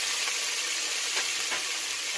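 A pork chop fries in hot oil until golden brown, a loud, close, continuous sizzle with dense crackling and no pauses.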